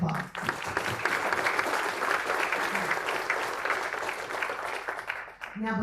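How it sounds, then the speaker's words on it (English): A conference audience at an apprenticeship event breaks into sustained applause, a broad even patter of many hands that fades near the end as a voice returns. "That deserves a round of applause."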